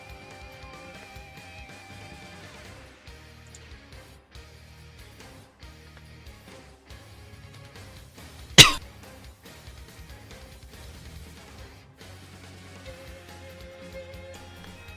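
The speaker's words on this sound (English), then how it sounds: "I think I muted my mic mid-cough there" A single sharp cough bursts out loud and brief partway through, standing alone over a quiet background of faint game audio and music during a Super Smash Bros. Ultimate tournament stream.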